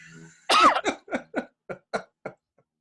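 A single harsh cough followed by a string of smaller, fading coughs, close and loud.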